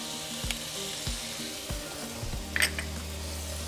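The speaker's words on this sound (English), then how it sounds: "So now we're just going to brown our meat." Seasoned ground beef browns in a hot pan for chile rellenos, a steady close sizzle and frying hiss with a few soft scrapes and stirs of a utensil against the pan.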